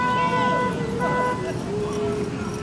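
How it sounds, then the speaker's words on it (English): Golf carts honk their horns in a Christmas golf cart parade, several overlapping toots and beeps over a crowd's babble and cheering voices. "A little bunch of honking going on."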